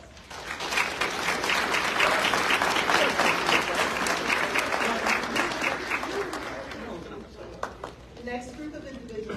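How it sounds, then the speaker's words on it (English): Sustained applause from a crowd at a spring graduation ceremony for a technical school campus in Philadelphia swells to a dense, steady roar of clapping, then thins out toward the end as a voice begins to speak over it. "Please give them a round of applause."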